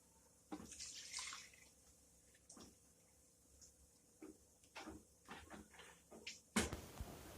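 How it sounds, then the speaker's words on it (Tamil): Water poured into the spiced masala for a brinjal kulambu gravy, heard as a few faint, brief splashes and clinks in a quiet kitchen. "மசாலாவில் கொஞ்சம் தண்ணி ஆட் பண்ணி நம்ம இதில் ஊற்றிக்கலாம் கிரேவிக்காக"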